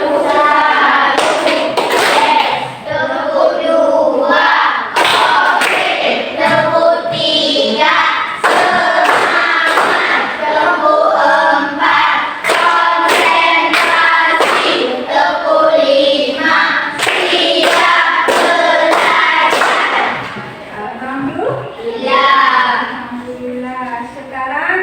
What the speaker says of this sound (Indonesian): mari sama kita tepuk semangat dulu.